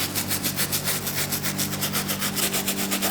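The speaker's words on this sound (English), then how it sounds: "we take our wire tip bristle and we're gonna hit the boost portion of the sneaker" A wire bristle brush scrubs the Boost sole of a mesh knit sneaker in quick, even back-and-forth strokes, a close, raspy rhythmic scratching with no talk.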